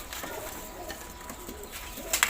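Pigeons of fancy breeds, including Sawafa and dark charcoal birds, coo softly in a loft in Alexandria, a low murmuring coo repeating under steady background noise, with a brief rustle near the end.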